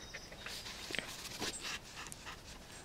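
A dog pants close by in a quiet room: rapid, breathy, hissing puffs that continue steadily, with a faint whimper-like squeak near the middle.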